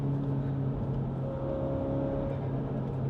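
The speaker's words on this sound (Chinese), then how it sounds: "当你听到那个 intake 声音跟它的小的 cracker 声音，给你的感觉就是爽" A F56 MINI JCW GP Inspired Edition's engine drones steadily and loud from the cabin on a drive, a constant intake hum with a steady pitch and no distinct crackles standing out.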